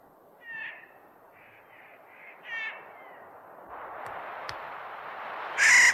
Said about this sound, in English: they attract a bird species upon which they are utterly dependent for reproduction, the Clark's nutcracker